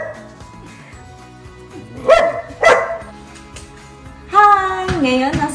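A dog barks indoors during a house tour in Toronto, giving a few sharp yelps and whimpering barks in separate bursts, with low background sounds and no clear talk over them.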